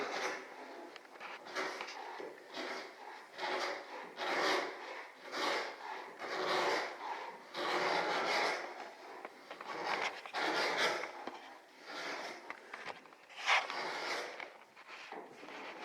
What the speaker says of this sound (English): John takes the scraper and he scrapes all that urethane off